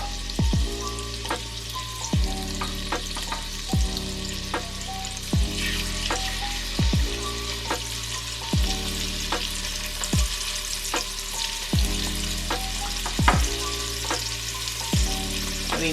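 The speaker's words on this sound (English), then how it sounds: "You see how it has that little seared sound?" Meat sears in a hot pan before going into a slow cooker: a steady close sizzle and frying crackle runs throughout, with repeated stirring or scraping strokes at a regular rhythm.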